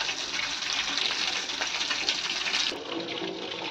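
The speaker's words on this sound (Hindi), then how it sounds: "पानी कितना बहाते हैं लोग बाग। पानी पेड़ों में डालने के लायक तो है नहीं, और बह रहा है, देखो वो बह रहा पानी वहाँ पे।" Water running steadily and flowing away outdoors near a garden, a continuous rushing splash that stays loud throughout and then softens slightly near the end, with no talk.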